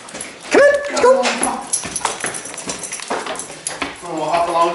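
A puppy dog yips and whimpers near the start, with a short bark-like sound after, while people talk over it and a voice briefly sings along.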